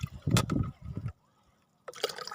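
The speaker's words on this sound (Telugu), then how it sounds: "ఇట్లాగా దీని నిండా నీళ్లు పోసి పెడతానండి" Water poured into a container meant for watering plants: a short splashing gush for about a second, then a pause before another brief burst of sound.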